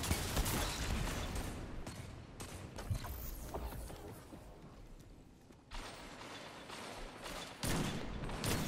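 Gunfire in the shooter game Destiny 2 Beyond Light, rapid repeated shots forming a dense crackling barrage with mechanical clatter, loud and continuous across the whole stretch with only brief dips.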